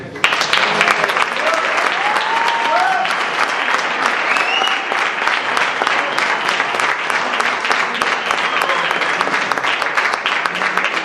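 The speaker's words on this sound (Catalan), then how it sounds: "voldria que els hi fes un fort aplaudiment" Loud, sustained applause from a large crowd at a cycling hill-climb race awards ceremony, dense steady clapping filling the whole stretch without pause.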